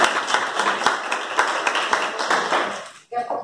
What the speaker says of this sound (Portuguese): já salva de palmas então